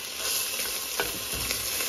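Green cardamom and fresh black peppercorns sauté with spiced potato rice for aloo tahari in a pan, giving a steady close sizzle with a couple of stirring scrapes and no talking.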